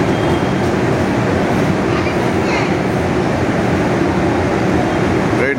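A local train runs from Howrah toward Pallaroad on the Burdwan chord line, heard from inside the carriage as a loud, steady rumble and rattle that does not stop, with no voices.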